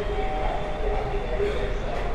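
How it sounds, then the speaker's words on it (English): Steady rumble of a passenger train ride in India, continuous low rolling noise with a faint whine, heard from inside the carriage with no clear clacks, moderately loud throughout. "Let's experience some train ride here in India."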